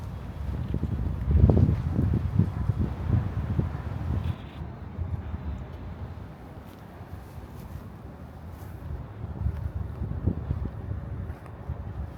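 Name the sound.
wind blowing into the microphone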